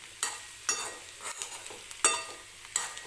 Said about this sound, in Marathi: व्यवस्थित मिक्स करून घ्यायची बटाट्याची भाजी आणि 1-2-3 मिनिटं ह्याला असं म्हणजे परतून घ्यायचं